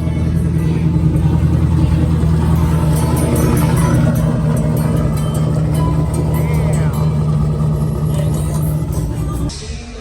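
A 476 V8 race engine with a 200-over injector setup, dual fuel and nitrous idles loud and close at a motorsport shop open house, with a lumpy throbbing rumble and occasional revs, under crowd chatter.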